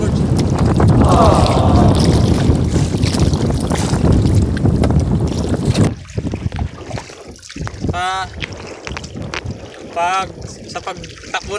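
A motor boat running while trolling for fish, its engine and wind roaring loudly for several seconds before dropping to a quieter idle with water splashes and voices talking.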